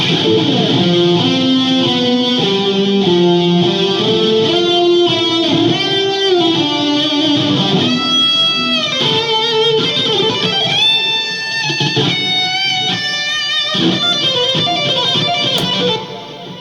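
Electric guitar with lush, shimmering delay and chorus, notes ringing and overlapping into a thick wash of sustained tones, steady and fairly loud throughout.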